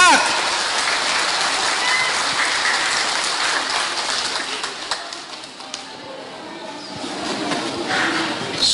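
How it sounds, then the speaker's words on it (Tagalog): An audience at a speech event applauds in a dense, continuous patter of many hands that dips briefly midway and then swells again. "Palakpak!"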